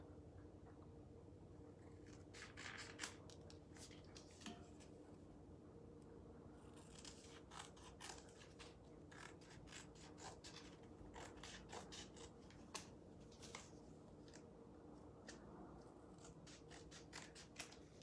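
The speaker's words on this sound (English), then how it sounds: "I'm just going to trim this up." Scissors trim a transfer sheet for decorating metal, with rapid clusters of crisp snips and paper rustle that come in bursts close up and fairly quiet, with no talking.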